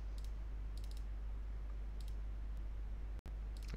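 A handful of sharp computer mouse clicks during a software installation come in short pairs and triplets against a low steady hum, quiet and close, with one brief dropout near the end.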